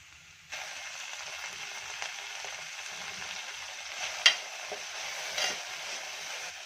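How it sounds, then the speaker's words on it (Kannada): Cluster beans (chavalikai) frying in about four tablespoons of oil in a pan, a steady close hiss of sizzling that starts abruptly and continues with a few brief stirring clinks. "ಮೊದಲನೇದಾಗಿ ನಾವು ಚೌಳಿಕಾಯಿನ ಚೆನ್ನಾಗಿ ಹುರ್ಕೋಬೇಕು"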